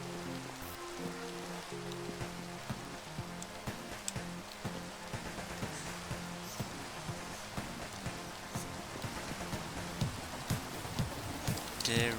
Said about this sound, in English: The rain is so loud here.